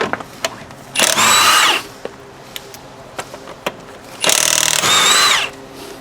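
An impact wrench removes the 19 mm lug nuts from a 2001 Pontiac Grand Am wheel supported on jack stands. Two loud bursts of about a second each stand out from the quiet, with small clicks and knocks between them.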